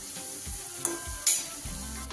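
Soybean and cabbage pakoras, shaped into flat rounds, fry in hot oil in a wok, giving a steady close sizzle with a few brief spatters and scrapes and no talking.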